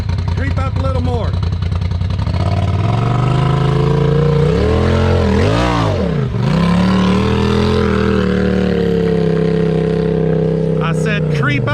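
An off-road vehicle's engine labors and revs up a steep hill at an off-road park in Slade, Kentucky, pitch climbing and swooping with throttle changes, loud and close, while people talk over it.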